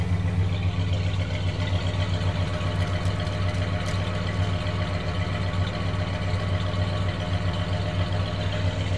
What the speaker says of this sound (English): Just smooth 440 power and a great exhaust note too.